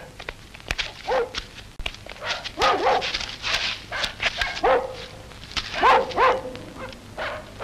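A dog barks in bursts through a scene from an old Vietnamese war film, with about five sharp barks spread across several seconds over a busy background and some footsteps.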